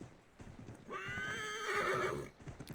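A horse in Assassin's Creed III Remastered gives a loud, drawn-out whinny lasting about a second and a half, with faint hoof clip-clops around it and no talking.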